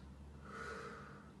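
A single quiet breath is let out during a kindergarten breathing exercise for five-year-olds, a short, soft, airy exhale of about a second, heard alone.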